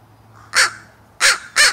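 Three loud, harsh crow caws, close by: one single call, a pause, then two in quick succession over faint background hum.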